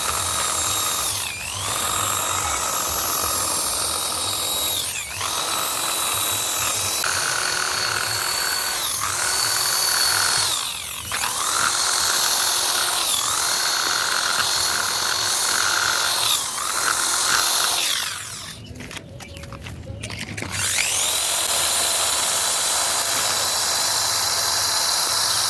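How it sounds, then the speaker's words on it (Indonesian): A handheld electric drill fitted with a cutting blade slices through weeds in a home yard, its high, whining motor squealing loud and close, dipping in pitch with each bite, then cutting out briefly before revving up again. "Ini dari bor aja ini udah powerful banget dan sangat efektif memotong segala jenis rumput liar"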